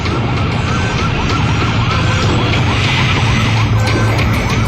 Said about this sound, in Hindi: फायर ब्रिगेड की गाड़ियों के आने की खबर उनके सायरन से मिल गई।